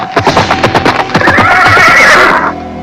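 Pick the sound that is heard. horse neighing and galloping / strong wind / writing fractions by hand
horse neighing and galloping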